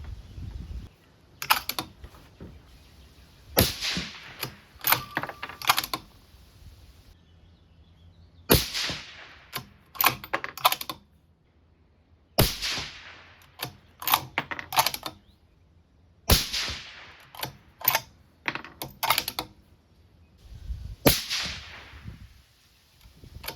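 Sharp, loud rifle shots from a 6mm BRA loaded with 112-grain Match Burner bullets, several widely spaced reports with gaps of echoing quiet between them at an outdoor range.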